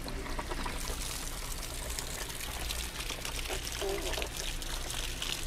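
Water gushes out of an RV water heater tank as it drains, with calcium chunks coming out, a steady loud splashing pour with a constant trickle throughout, close by and without talk.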